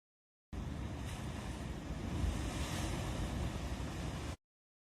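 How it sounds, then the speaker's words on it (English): Ocean waves washing in a steady, broadband surf roar, moderately loud with some wind buffeting, lasting a few seconds between silence at start and end. "here I have a short MP4 file of some waves,"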